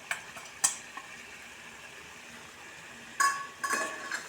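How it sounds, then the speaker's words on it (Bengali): Poppy seed paste stirred in a cooking pan: a quiet background with sparse scraping and clinking strokes, a few near the start and a cluster near the end. "পোস্তটা দিয়ে এবার নাড়িয়ে নেবে।"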